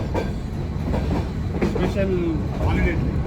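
The Ooty toy train rumbles along its track with steady clattering and a brief metallic squeal, voices murmuring faintly over the continuous running noise.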